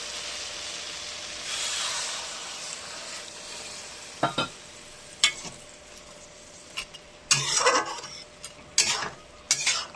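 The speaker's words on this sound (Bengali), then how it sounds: "এবার জল দিয়ে দিচ্ছি।" Water goes into a pan of cooking fish, raising a steady sizzling hiss, followed by sharp metallic clinks and scrapes of a utensil against the pan, close and fairly loud.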